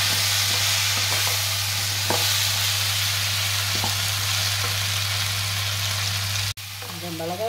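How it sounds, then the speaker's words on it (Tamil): Curry powder is sautéed in a pan for a Chettinad-style pumpkin curry, a steady close sizzle over a low constant hum with occasional stirring taps, briefly cut near the end. "போட்டு வதக்குங்க."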